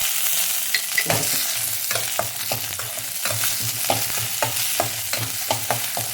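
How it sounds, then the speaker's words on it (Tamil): Black urad dal and dried red chillies are fried in sesame oil for an onion chutney, with a steady close sizzle and a run of sharp spoon-scraping stirs against the pan, and no speech. "இப்போ உளுத்தம்பருப்பு போட்டுக்கிறேன் ஆறு வரமிளகாயும் இதிலே நம்ம போட்டுக்கோம்"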